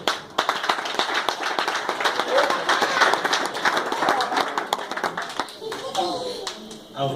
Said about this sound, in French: Est-ce que nous pouvons applaudir notre frère?